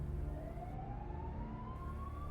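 An ambulance siren arrives as a single faint wail, rising slowly in pitch over a low background rumble.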